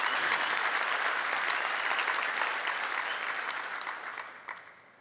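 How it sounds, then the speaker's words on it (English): An audience at a keynote talk claps loudly and continuously, a dense wash of applause that gradually fades out toward the end. "Thank you for the applause."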